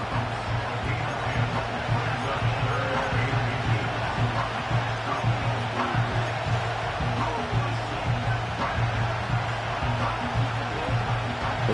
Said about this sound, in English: This crowd trying to force a false start here.